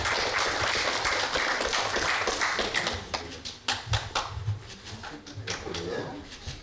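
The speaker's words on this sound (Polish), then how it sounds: "Jeszcze raz brawa, brawa dla..." An audience claps at the final gala of a youth nature film competition, producing scattered, uneven claps that thin out into sparse individual hits, with voices talking over them.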